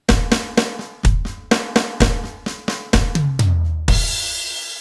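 A drum fill with a quick run of loud, sharp hits and tumbling tom strokes, sliding into a deep booming tom and finishing on a crash cymbal wash. The quiet left-stick note at the very end is played.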